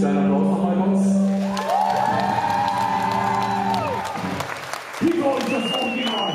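Audience at an evening music event in Bad Homburg clapping and cheering for the night's performer, loud applause with whoops under lingering tones and voices, tapering off near the end.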